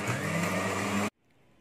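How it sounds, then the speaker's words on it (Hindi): An electric kitchen mixer grinds tomato, rock salt and a little water into chutney, a loud steady whirring motor drone that cuts off abruptly after about a second, leaving near silence. "टमाटर, सेंधा नमक और थोड़ा सा पानी और इसे बंद करके पीस लेंगे इसे।"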